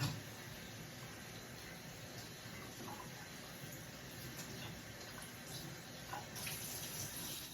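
Shishito peppers rinsed under a running kitchen tap, a steady soft stream of water splashing continuously at low level with faint clinks, no voices.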